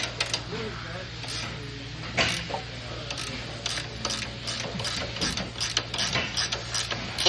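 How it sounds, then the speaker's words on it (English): A wrench loosens the lock nut on the spring of a commercial clay target trap, producing a run of rapid metallic ratcheting clicks over a steady low machine hum, close up. "So the first thing we're going to do is loosen the lock nut here on the back."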